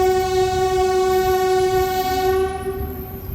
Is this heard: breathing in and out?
no